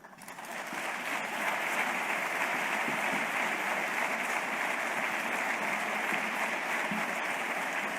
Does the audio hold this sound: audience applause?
yes